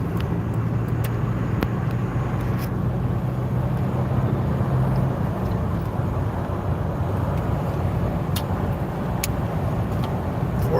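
A car rolling along a road, heard from inside the cabin as a steady low engine drone and tyre rumble that holds evenly throughout, with a faint hum early on and a few light knocks.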